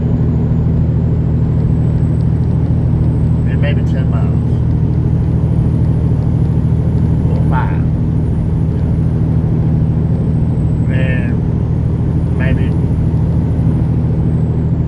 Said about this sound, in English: Now, it's more like 20 and 30 diesel trucks, big trucks, and about 100 cars.